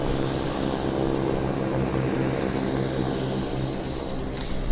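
Delta Airlines Embraer airliner at Vancouver Airport, a steady loud engine roar with broadband rumble holding level throughout, nearby and continuous.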